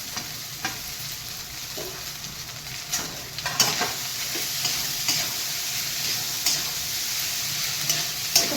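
Bata fish and onions sizzle in a pan, close up, with occasional scraping stirs and clatters over a steady frying hiss.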